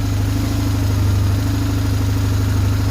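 A 2002 BMW R1150GS motorcycle engine idles steadily while warming up on choke, a close, loud, even low throb with a fast regular pulse and no voices over it.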